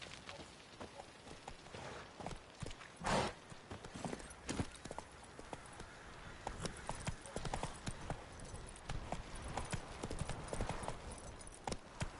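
Horse hooves clip-clop at a steady walking pace in The Witcher 3, clear and close, with a sharper louder hoof strike early on and a low voice murmuring briefly underneath.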